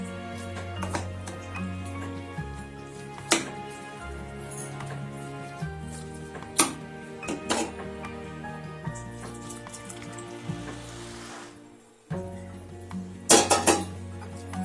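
A spoon stirs tamarind paste into cooked rice in a pot, producing scattered metallic clinks and scrapes over a steady tonal background, with short pauses between strokes.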